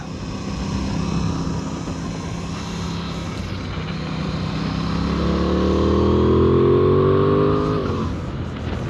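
An Aprilia Tuono 660 Factory naked sport motorcycle engine drones steadily as it rides, then climbs in pitch through a long acceleration before easing off, loud and close.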